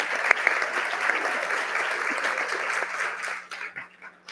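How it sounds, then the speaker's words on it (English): Audience applause fills a TEDx event hall, a dense, even wash of clapping from many hands that holds steady and then trails off into scattered claps near the end. "Please a warm applause for them."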